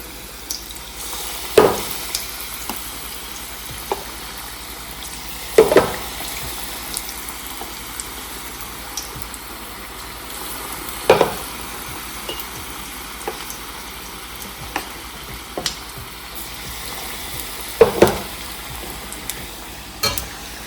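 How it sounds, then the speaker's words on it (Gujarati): Potato vadas frying in hot oil produce a constant low hiss broken by sharp pops and spatters every few seconds, with no talking. "હવે આપણે બટાકાવાળાને તળી દઈશું."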